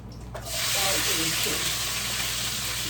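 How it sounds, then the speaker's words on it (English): Onions drop into hot olive oil in a pan and burst into a sudden loud sizzle that stays strong and steady, close by. "let it saute for a few minutes"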